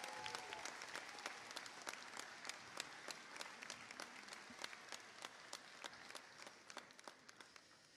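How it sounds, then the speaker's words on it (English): Audience at an engineering school graduation ceremony applauds in a sustained, even round of clapping. Individual sharp claps stand out near the microphone, and the crowd sounds distant and fairly faint. "let's start by giving another round of applause to these remarkable young men and women in front of us"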